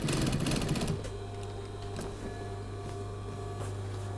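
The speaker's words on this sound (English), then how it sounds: "let's just stitch that flat, the edge of the cuff flat onto the back" A sewing machine stitches a cuff edge flat onto the back of a sun cape in a fast, dense burst for about a second, then stops and leaves a steady low hum.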